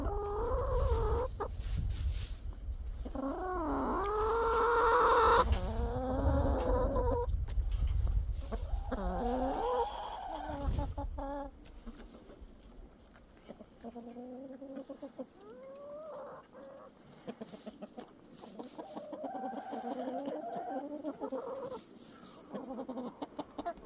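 Backyard chickens in Alaska cluck and squawk in repeated bursts, close by, with quieter pauses between calls.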